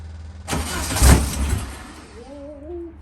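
A 1969 VW Beetle engine cranks and catches with a loud, rough burst that swells, then settles into a lower running rumble, with a faint whistling tone near the end.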